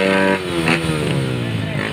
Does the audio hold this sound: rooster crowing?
no